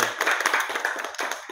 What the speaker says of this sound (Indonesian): Tepuk tangan dulu.